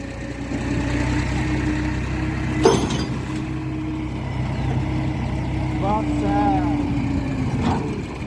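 A tractor engine drones steadily and loudly at close range as it works to pull a grain-laden trolley stuck in a river, with a brief clank partway through and voices calling faintly over the hum.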